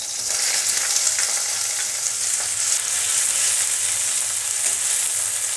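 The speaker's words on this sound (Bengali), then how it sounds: "পেঁয়াজটাকে আমি খানিক ভেজে ভেজে নেব সুন্দর করে।" Onion with green chilli fries in oil in a pan for a fish-oil and gill recipe, sizzling loudly and continuously while a utensil stirs it with occasional scraping clicks, no speech.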